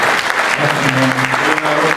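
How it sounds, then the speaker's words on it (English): Loud, close applause from a conference audience in North Carolina, honoring a mayor, with a few voices murmuring and calling out underneath the clapping. "give Mayor Bill a applause."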